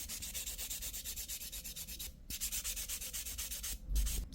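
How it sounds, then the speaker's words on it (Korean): Steady, rhythmic gel nail sanding as an extended gel surface is smoothed evenly after tip extension, a close scratchy rubbing in repeated strokes with two brief pauses and no talking. "표면 갈 게 별로 없어서 샌딩으로 고르게 한 번 더 마무리 할게요."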